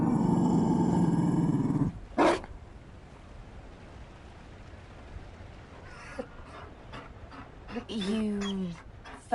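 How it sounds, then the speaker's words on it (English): Mabari war hound from the Dragon Age: Inquisition video game gives a short, loud growling roar after a sustained low droning passage, followed by quieter panting and whimpering sounds near the end. "You found a dog?"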